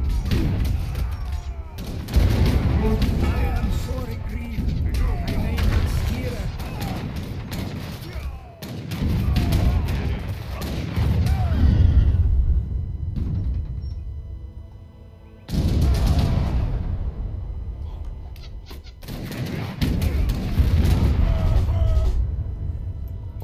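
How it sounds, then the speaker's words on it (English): A heavy barrage of booming cannon fire and battle noise in Age of Empires 3, nearly continuous, broken by a few brief lulls. "Cannons."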